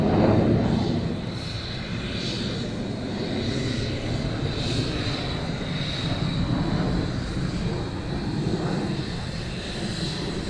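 Military jet aircraft taxiing past at RAF Lakenheath during surge operations: a steady, broad engine roar with a high whine, fairly close and sustained throughout, with no talk.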